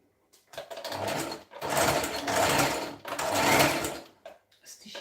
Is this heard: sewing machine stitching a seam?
yes